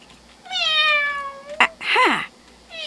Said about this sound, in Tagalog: Sabi ko na nga ba, nandito ang pusa na ito.